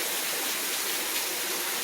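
Steady, dense hiss of a heavy rain downpour after a months-long dry spell, a continuous broadband wash with no breaks and no voices.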